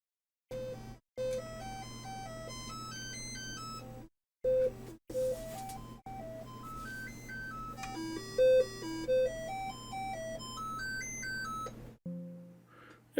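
A Commodore 64 SID chip with a missing noise channel plays test tones: stepped chiptune beeps in rising and falling scale runs over a steady low hum, with brief silent gaps between test segments.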